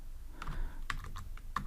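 Keystrokes on a computer keyboard during Android app coding, a few soft taps followed by sharper isolated clicks, close and fairly quiet, with no talking.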